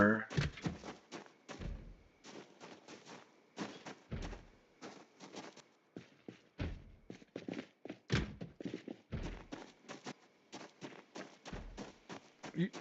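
Repeated heavy thuds of a creature banging on a wall or door inside a gas station in a survival video game, irregular bursts of knocks and footstep-like impacts spread across the stretch, fairly close and moderately loud.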